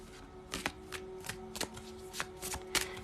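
Tarot cards shuffled by hand in a series of crisp riffling bursts, roughly eight quick flutters spread across a few seconds, close and fairly quiet against a faint steady hum.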